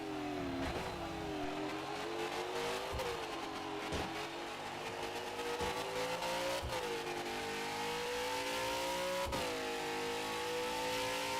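Racing car engines in the PlayStation 3 video game Supercar Challenge, loud and continuous, with revs climbing and dropping through repeated gear shifts and sharp transient knocks along the way.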